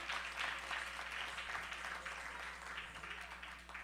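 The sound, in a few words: audience applause after a performance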